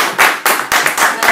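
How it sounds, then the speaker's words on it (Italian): An audience claps at an award ceremony for a performing artist, a short burst of close, dense applause with a few distinct louder claps. "altro applauso per questa artista fantastica."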